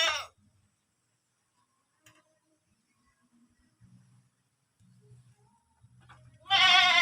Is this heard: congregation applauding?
no